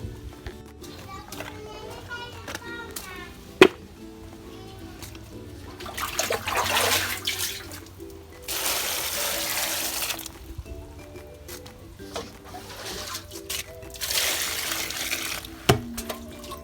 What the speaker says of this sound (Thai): เราก็ล้างมะนาวแล้ว